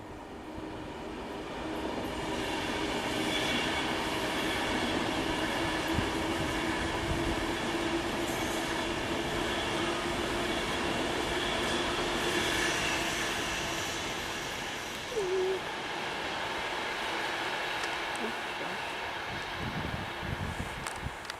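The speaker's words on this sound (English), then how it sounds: "Here comes another Pendolino." A Pendolino train passes through South Hampstead with a sustained rolling rumble of wheels on rails and a steady roar that swells and fades slightly, with a faint squeal partway through.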